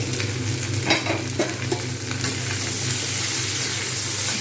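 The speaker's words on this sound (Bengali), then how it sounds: "ফুলকপি কিন্তু খুব সুন্দর ভাজা হয়ে গেছে" Cauliflower and potatoes frying in a pan, a steady close sizzle with a few stirring scrapes, no voices.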